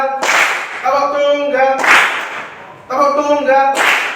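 Classroom of pupils chants in unison and answers with sharp, loud single claps in a clapping game, three crisp bursts spaced about a second apart between the voices.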